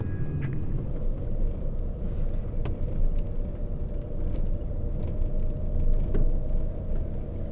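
Steady interior car rumble while a vehicle is driven, a constant low engine and road drone with slight swells, no talk over it.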